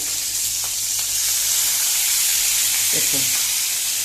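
Green chillies and curry leaves sizzle in hot oil for a Goan-style saar, giving a steady, bright frying hiss close by, with a few soft stirring clinks partway through.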